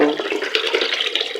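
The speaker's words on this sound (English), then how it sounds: "now I'm washing my rice" Local rice gets washed in water in a pot during village cooking outdoors, with a brief close swishing and sloshing of water and grains being stirred by hand.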